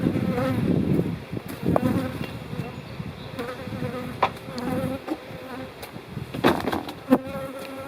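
Honeybees buzz steadily around an opened hive during a frame swap between colonies, a dense close droning swarm with a few sharp knocks from handling the woodenware.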